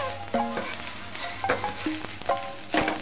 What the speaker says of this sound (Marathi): जरा 5 मिनिट आपण तेलावर ठेवूया फोडणीवर